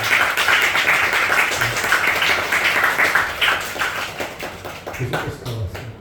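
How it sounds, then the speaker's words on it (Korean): A church congregation at a Sunday morning thanksgiving service claps in welcome for a visitor, steady close applause with scattered individual claps that thins out toward the end. "우리 민철이 환영의 박수로 환영하고 있습니다"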